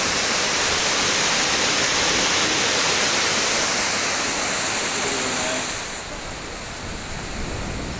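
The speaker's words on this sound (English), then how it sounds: "The waterfall goes all the way up there to the top." Waterfall near Greenside Mine in a former lead-mining village, a loud, dense, steady roar of falling water that eases slightly toward the end, with no voices.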